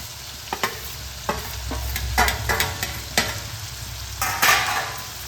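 Chichinga (snake gourd) cooked with tomato and fried egg bhujia is stirred in a pan, giving repeated scraping strokes of a spatula over a continuous gentle sizzle, close and fairly loud.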